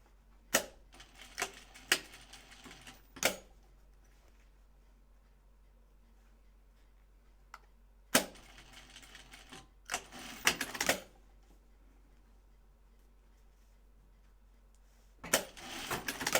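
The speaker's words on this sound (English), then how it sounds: "I like to stitch down my label now because it's kind of big." A sewing machine stitching down a large label on a bag, short separate bursts of rapid mechanical clatter spread across a quiet stretch, close but fairly soft, no talk.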